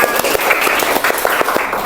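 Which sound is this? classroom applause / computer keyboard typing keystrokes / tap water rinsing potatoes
classroom applause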